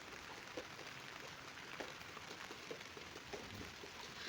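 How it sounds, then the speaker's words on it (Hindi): Rain falls steadily on a hillside house in the mountains on a cloudy morning, a faint continuous patter with scattered drips, no voices. "बारिश भी हो रही है।"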